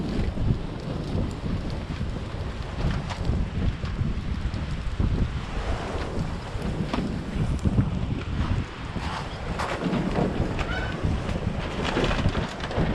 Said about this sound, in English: Windy. Gets pretty good gust.